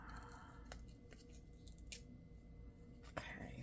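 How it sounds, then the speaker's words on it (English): Scissors cutting a paper ticket strip for DIY ephemera, a few faint snips close up against quiet room noise. "So I'm gonna cut this here."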